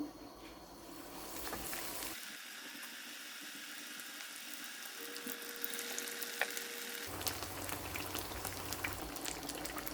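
Steady sizzling and crackling of fish frying in hot oil, loud and continuous throughout, with occasional pops.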